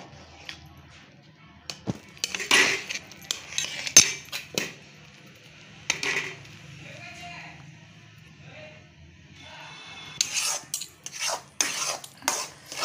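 A utensil stirs and scrapes through semolina dough in a pot of boiled water, breaking up lumps for ukadiche modak; uneven bursts of clinking and scraping come and go between stretches of talking.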